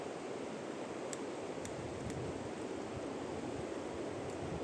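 Mountain river water flowing near Jispa in Himachal Pradesh, a steady, dense broadband rush with no breaks, heard alone and fairly close.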